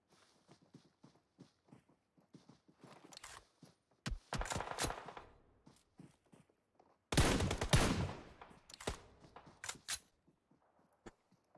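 PUBG Mobile gunfire in a pro league match, scattered quiet shots and taps followed by two loud rattling bursts of automatic fire, with distant shots trailing off after.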